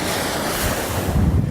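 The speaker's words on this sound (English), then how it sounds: "We don't have that ocean noise and waves, roaring and all that good stuff." Ocean waves roar and surge continuously at close range, a broad wash of surf mixed with gusting wind buffeting the microphone, growing slightly heavier toward the end.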